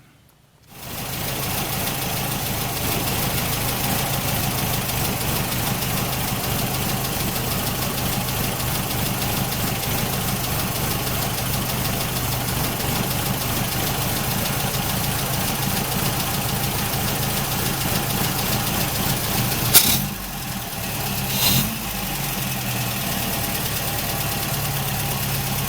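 A Triumph TR4A engine with twin HS6 carburetors idles steadily and loudly throughout while the carbs are balanced, with a brief bump in the sound near the end.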